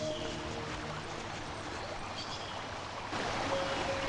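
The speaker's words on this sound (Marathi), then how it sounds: "धबधब्याचा आवाज येतोय म्हणजे नक्की ते जवळपास धबधबा असणार" A waterfall nearby in hilly countryside gives a faint, steady rushing hiss of falling water that swells slightly louder toward the end, with no voices.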